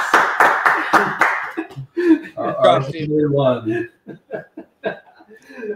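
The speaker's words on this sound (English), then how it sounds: "Yes, round of applause" At an electric unicycle and eskate race event, a handful of sharp, close hand claps ring out in a quick run, then give way to nearby talking and chuckling voices.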